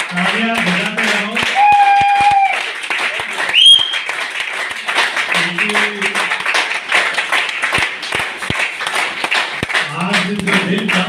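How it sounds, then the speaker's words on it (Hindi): Applause from an audience at a Bhiwandi celebration continues as irregular, fairly close hand claps, mixed with a loud voice and tonal sounds over the clapping. "तालियां बजाते रहो।"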